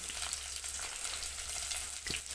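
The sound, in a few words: fenugreek and onion frying in coconut oil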